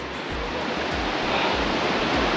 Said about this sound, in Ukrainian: От тут іще красивіший водопад відкривається.